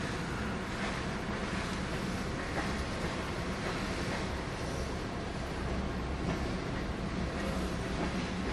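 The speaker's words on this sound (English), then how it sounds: "here, a train in action" A Q line mass transit train moving through a city, a continuous loud rumble and rattle of the cars that stays steady throughout, with no talk.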